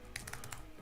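Fingers typing on a computer keyboard, four or five quick close keystrokes in a short burst, quiet and without speech.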